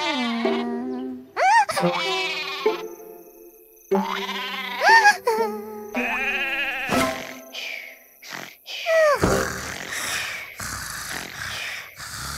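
Cartoon sheep sounds in the Endless Numbers children's number-counting app game, a run of short, close bleats and boing-like jumps separated by brief gaps, with bright synthetic effects and no talking.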